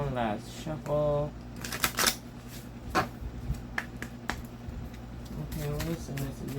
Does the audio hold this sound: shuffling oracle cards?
yes